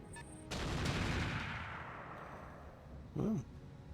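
A single heavy weapon blast in BattleTech RogueTech hits sharply, then rolls into a long decaying rumble, followed moments later by a short electronic tone.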